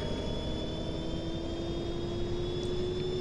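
A steady, loud diesel locomotive engine roar in Train Simulator 2016, with a constant droning hum and high whine, unbroken throughout with no voices.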